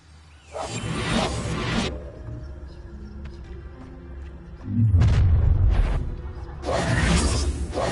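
In the video game Hogwarts Legacy, the Confringo explosion spell produces heavy booming blasts with whooshing, debris-like rumble, coming in three loud bursts separated by quieter gaps.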